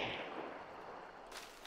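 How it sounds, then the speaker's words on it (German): A gunshot in the online shooter Hunt: Showdown lands as a sharp crack with a short rumbling tail, fairly quiet in the mix, and a second burst follows near the end. "Ja, der Schuss kommt sehr nah,"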